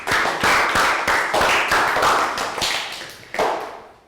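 A Year 3 class of students claps in a round of applause, a loose run of sharp hand claps close by, pausing briefly before a final burst.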